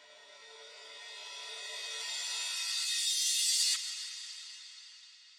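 A transition effect from a drum and bass kit in a music track: a bright, noisy swell builds steadily, then cuts off abruptly on a soft hit and a fading tail.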